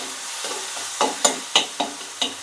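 Tomatoes cooking down in a pan for a Tamil-style mutton brain fry, with a faint steady sizzle broken by five or six soft scraping stirs at a moderate pace, close by and with no talking.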